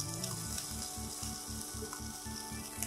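Beef sizzling in a hot pan with garlic for a black pepper beef dish, a steady loud frying hiss with faint rhythmic stirring scrapes, close up and without voices.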